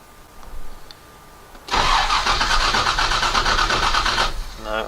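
A car engine cold-starts after three pumps of the throttle. A short cranking stutter comes first, then the engine catches into a loud, steady idle close by that holds for several seconds before beginning to falter.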